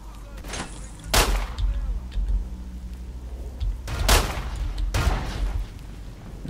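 Grenades explode in the video game S.T.A.L.K.E.R.: Lost Alpha as three loud, booming blasts spaced a few seconds apart, each with a rumbling tail over steady low background noise.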